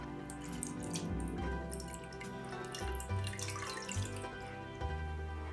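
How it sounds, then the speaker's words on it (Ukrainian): Warm water, no hotter than 40 degrees, running into a bowl to make dough for Greek sesame bread rings: a steady trickling, splashing stream pours close by, quiet, with no talk. "Для цього беру теплу воду, тепла вода температурою не вище 40 градусів."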